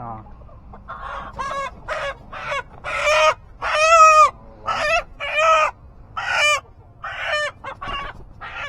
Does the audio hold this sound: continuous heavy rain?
no